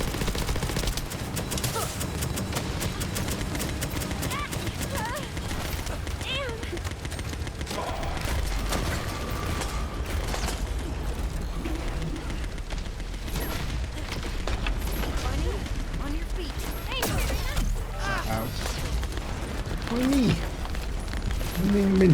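Gunfire in the video game The First Descendant: dense, continuous bursts of shooting layered over explosions and other battle effects, steady and loud throughout, with faint voices underneath.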